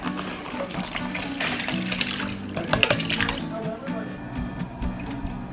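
Liquid splashes and trickles as it is poured into a cooking pot in a home kitchen during family meal prep, a short pour close by with voices talking over it.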